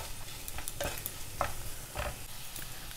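Potato bhujia being stirred in a pan with salt and red chili powder, a soft steady sizzle under a few scattered scraping clinks of the spoon, with no voices.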